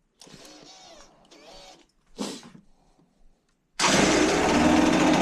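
A Yamaha TDR 125 motorcycle running on its fuel reserve with the choke on: quiet scraping and a brief burst come first, then the engine catches and runs loud and steady for the last second and a half.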